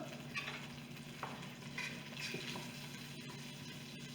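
Butter sizzles and crackles as it melts in a pressure cooker pot on the saute setting, a soft continuous frying hiss with occasional small pops and a faint steady hum underneath.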